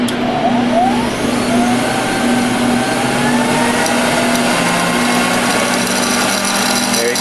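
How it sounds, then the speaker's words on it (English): A loud, steady motor drone with a whirring hum runs continuously close by: the vacuum of a gas-converted 2 lb fluid bed coffee roaster prototype running. "Do a little test of the"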